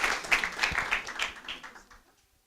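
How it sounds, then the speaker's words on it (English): Audience applause at the opening of an agricultural career fair, honouring two invited guests, a dense patter of clapping that swells in waves and then tapers away into near silence. "Can we give them a round of applause"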